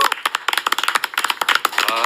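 Studio audience applause greets a politician arriving as a guest on a Korean talk show, a quick flurry of sharp claps spread across the room, loud and dense for a couple of seconds.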